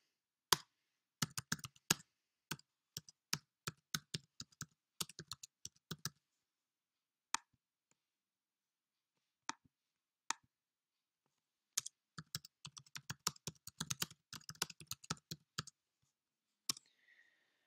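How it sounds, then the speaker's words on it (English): Computer mouse and keys clicked at a desk, with a quick string of sharp, close clicks, a few isolated clicks during a quiet pause, then another dense burst, with no talk. "I just need to right click on the image, save image as, and then just save it somewhere on my computer"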